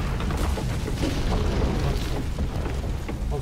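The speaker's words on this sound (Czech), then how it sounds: "On skočí rovnou dolů do těch výbuchů." Rumbling explosions roar through a continuous, dense wall of low booming and crackling debris in the video game Assassin's Creed Unity, loud and sustained without pause.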